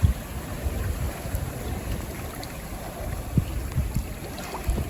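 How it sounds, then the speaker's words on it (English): A sailboat sails at night, hand-steered in the dark, with a steady wash of water and wind rushing at the hull, plus a few soft knocks and creaks, and no voices. "Sailing through the night."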